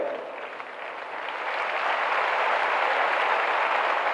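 Steady applause fills a large hall at a police appointment ceremony, a dense crowd of hands clapping continuously and growing a little louder after the first second, with no voices over it.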